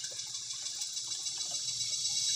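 Water running steadily from a public tap at the Kapihan Water District in Malabog, Davao City, as it is collected for a home reservoir; a continuous hiss close to the recorder with no talking.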